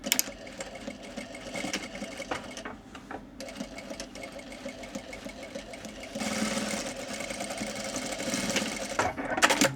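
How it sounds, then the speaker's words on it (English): A sewing machine stitches all the way around a shorts pocket bag, its needle running in a rapid mechanical chatter with short pauses and a faster, louder burst toward the end. "So we're sewing this with the bad sides of the pocket bag together, and I'm just going to stitch all the way around"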